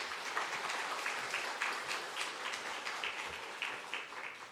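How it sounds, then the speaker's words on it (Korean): Church congregation applause welcoming the pastor during a Sunday morning service in Busan, a dense, even wash of clapping from many hands, fairly faint and distant, continuing throughout without talking. "우리 목사님 나오실 때 환영의 박수 한번 드리도록 하겠습니다."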